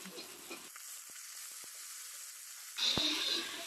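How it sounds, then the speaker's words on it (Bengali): Fish frying in a pan with onion and green chili makes a soft, steady hiss that swells into a louder sizzle near the end. "এখন মাছগুলো এইভাবে ভেজে নিচ্ছি"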